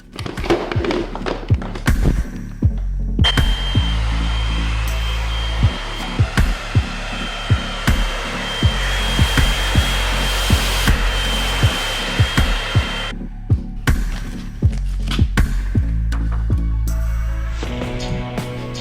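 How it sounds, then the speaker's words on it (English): A hot air tool blows steadily over plastic shrink wrap to seal its seams, a continuous close whooshing hiss punctuated by many soft taps and thumps throughout. "we're going to seal the seams by running some hot air over it"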